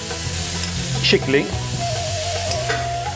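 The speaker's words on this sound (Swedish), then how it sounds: "Så steker vi." Minced meat, 200 grams, frying with chopped onion in olive oil, giving a steady close sizzle with stirring scrapes and clatter throughout, while a brief voice speaks quietly over it.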